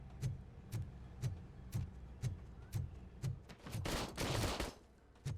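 Gunfire at the shooting range in RoboCop: Rogue City, a steady series of evenly spaced loud shots roughly twice a second, building into a dense, sustained burst of rapid fire near the end.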